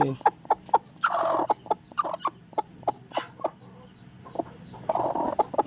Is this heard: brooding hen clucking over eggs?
yes